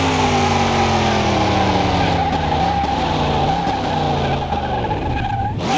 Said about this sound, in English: drive without the wheels slipping and squealing